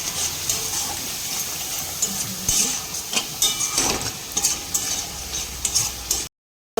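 Masala for a no-onion, no-garlic paneer curry being stirred in a hot pan, with steady sizzling and frying beneath repeated scraping strokes of a spoon, loud and close, ending abruptly.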